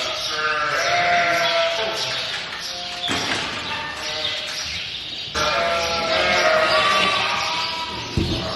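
Sheep bleat loudly and repeatedly inside a barn, several overlapping calls close by with brief pauses and a thump near the end.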